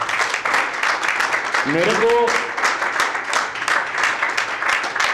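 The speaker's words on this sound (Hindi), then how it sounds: "ताली बजा दीजिए जोरदार" An audience claps loudly in a hall during a talk on drug addiction and HIV awareness. The applause runs continuously under a speaker's voice, with a brief melodic vocal phrase rising above it.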